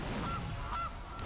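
A goose honk in a Magic card video game: a short pair of nasal honks over a dense, loud layer of game sound.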